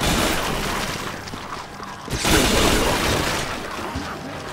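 A blade cannon fires in the Dead Nation zombie shooter game, with cluttered booms and clanging mechanical bursts and a sharp, louder blast about halfway through over a dense, noisy backdrop.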